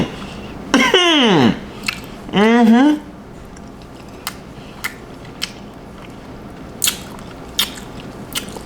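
Bites and chewing of crab stick dipped in wasabi soy sauce with rice, close and crisp, with two drawn-out vocal sounds early on and scattered soft clicks and mouth noises afterward.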